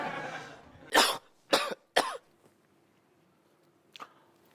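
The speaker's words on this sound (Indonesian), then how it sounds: "Saya sedang batuk." A person coughs three times in sharp, close bursts, followed by a softer single cough after a short pause.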